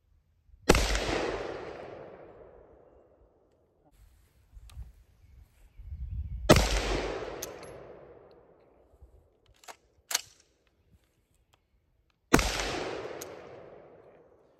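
Three loud, sharp single reports from a Colt M4A1 rifle with a gassing fault, spaced several seconds apart, each decaying in a long echoing tail, with scattered faint clicks and handling noises between shots.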